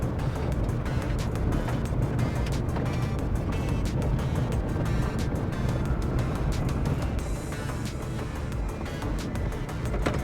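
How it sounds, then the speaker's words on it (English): A Scion tC with TEIN suspension rolls over bumps on a dirt road, heard from inside as a steady loud rumble of engine and road noise with occasional knocks and thumps. "There's a couple bumps on our little dirt road here that I think I can see just exactly how bad that vibration is."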